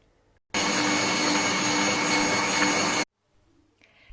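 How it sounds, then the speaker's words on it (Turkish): An electric mixer whips a packet of whipped cream powder into chilled pastry cream for a layered cake, giving a loud, steady whir that runs about two and a half seconds on its own before stopping abruptly. "Şimdi üzerine bir paket krem şantiyi. Bunu güzelce çırpacağım."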